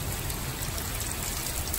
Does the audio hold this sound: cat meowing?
no